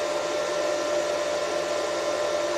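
A Tekhmann TWI 260 welding inverter, powered through a lamp and variac, runs with a steady, loud whirring fan hum and a constant tone that holds evenly throughout, with no voices.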